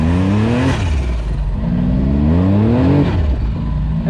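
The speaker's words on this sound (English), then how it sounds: "One thing I really do like is hearing that turbo noise." A 2021 Can-Am X3 X RC Turbo RR UTV accelerates on a trail, its engine note rising and falling through repeated revving sweeps with turbo whir, loud and close throughout.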